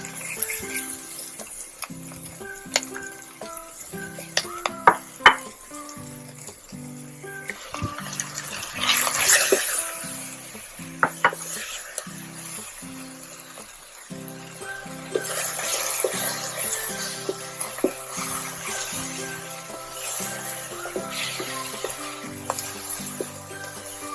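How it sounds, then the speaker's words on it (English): Garlic and ginger paste sizzling and frying in a pan for a spicy vegan Thai eggplant curry, a steady crackle with occasional stirring scrapes, close and fairly loud, no talking. "And the next thing that I'm adding is the garlic paste"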